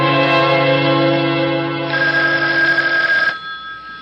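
Old-style telephone bell ringing in a radio drama, a steady continuous ring that changes pitch partway through, loud and close, with no voices over it.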